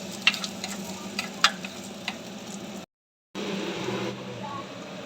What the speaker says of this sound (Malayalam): അരിഞ്ഞു വെച്ചേക്കണ ചെറിയ ഉള്ളി, കാന്താരി, മുളകും കൂടി ചേർത്ത് നല്ലതുപോലെ നമുക്ക് വഴറ്റിയെടുക്കാം